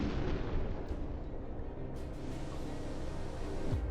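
Torpedoes launching from a U-boat in the submarine game UBOAT: a sustained low rumbling rush with muffled thumps and a couple of brief higher bursts, steady and fairly loud throughout.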